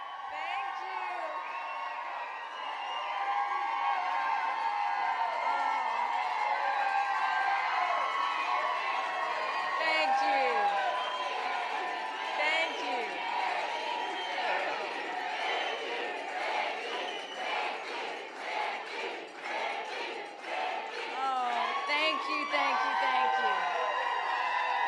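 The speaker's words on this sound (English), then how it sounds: "It seems like a pretty rowdy crowd there in Charleston." A rowdy crowd at a Charleston, South Carolina Republican primary rally cheers, whoops and shouts continuously, a dense, loud roar of many voices with rising yells layered throughout.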